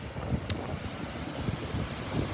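Blustery wind roars and buffets steadily against the microphone, a constant rushing noise with low gusty thumps.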